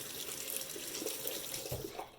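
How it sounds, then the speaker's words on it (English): Warm tap water runs steadily over a small silicone facial scrubby in a sink, a continuous close splashing stream with no talking. "Then I take this little silicone scrubby and I rinse that under warm water."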